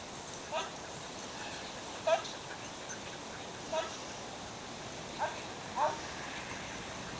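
Several short, faint dog yelps and whimpers spaced irregularly over a steady background hiss, somewhat distant.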